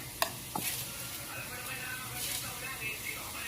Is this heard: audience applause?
no